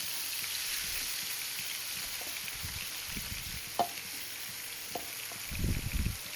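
A fresh batch of prawns fries in hot oil, a continuous close bubbling sizzle with occasional soft clinks and stirring knocks, no voices.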